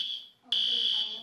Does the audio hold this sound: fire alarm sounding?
yes